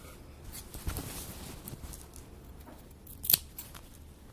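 Scissors snip off leftover thread while stitching a seam, one short crisp cut standing out near the end over a quiet room with faint handling sounds.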